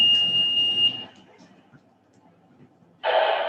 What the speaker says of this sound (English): Fire alarm at school.